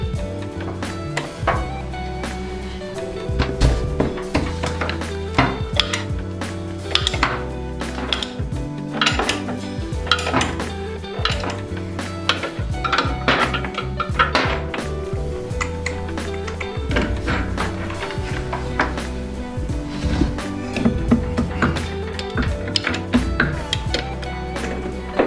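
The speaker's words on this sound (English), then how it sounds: "take those two big fat 19mm bolts off" Wrench work on the two 19mm bolts of a Harley Softail shock mount: repeated metallic clicks, clanks and ratcheting taps going on steadily and close by, with no talk.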